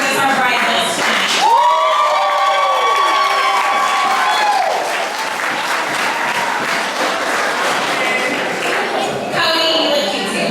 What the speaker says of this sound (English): we need a huge round of applause